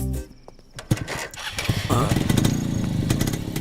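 Motorcycle engine starting up and revving close by, rising from sputtering bursts to a steady throaty rumble.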